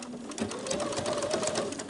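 A sewing machine begins stitching a seam on a festive advent calendar quilt project, a steady close whir with a faint rhythmic needle pulse running without pause.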